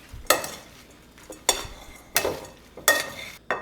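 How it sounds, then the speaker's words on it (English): Brussels sprouts salad with dried cranberries and shaved Parmesan being tossed in a bowl, four distinct rustling scoops roughly every 0.7 seconds, close and fairly quiet with no talking. "You just want to give that a toss to mix it up."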